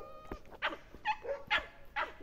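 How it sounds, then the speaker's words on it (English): Several dogs barking and yipping together in a ragged chorus, four close bursts at a roughly steady rhythm, fairly loud with no talking. "dog choir time"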